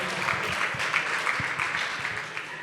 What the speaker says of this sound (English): Everybody stand up and cheer again.